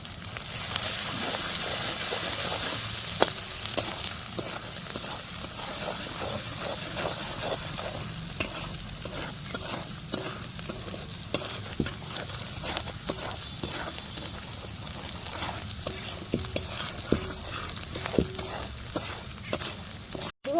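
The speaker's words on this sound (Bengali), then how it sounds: "মশলাটা মিশিয়ে নেব" Moglai paratha filling frying with salt, chilli powder and turmeric being stirred in, a continuous loud sizzle and hiss broken by frequent spatula taps and scrapes against the pan, with no talking.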